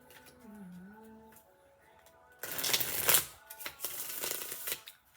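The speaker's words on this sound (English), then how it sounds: "I just cut the deck to the Nine of Cups" A tarot card deck is cut and shuffled close by with a crisp, rustling riffle that grows busy and uneven, after a soft voice hums a short tune alone at the start.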